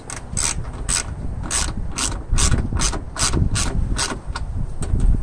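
Ratchet wrench turning bolts on a Honda window regulator, a rapid run of close, loud clicking bursts repeating steadily with short pauses, no talking.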